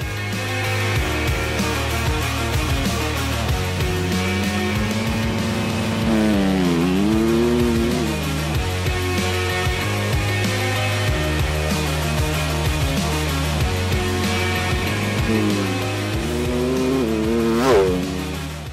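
Honda motocross bike with a DOHC cylinder head revving hard on a sand track in Holland, its engine note rising and falling in repeated sharp bursts and sustained high-pitched whines, loud and close throughout.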